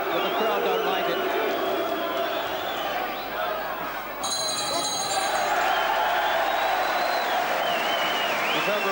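Boxing arena crowd reacting to a referee's call, a continuous loud roar of voices with a commentator talking over it and a short high ringing tone midway.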